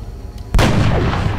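A single sharp sniper rifle shot bursts out in the XCOM Long War video game, a loud close crack that trails off into a lingering boom.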